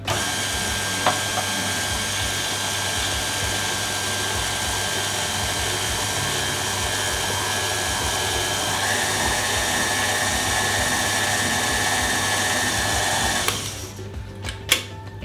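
An electric mixer whirs continuously and loud through tiramisu brownie crinkle cookie batter, a steady motor hum with a faint pitch shift near the end before it switches off and a few clicks follow.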